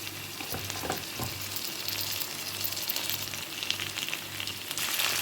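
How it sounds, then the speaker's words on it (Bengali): Shrimp fry with onions in a hot pan for a pumpkin-and-shrimp mash, giving a steady close sizzle with occasional stirring scrapes and no voices. "এবার চিংড়ি মাছগুলো পেঁয়াজের সাথে ভালো করে ভেজে"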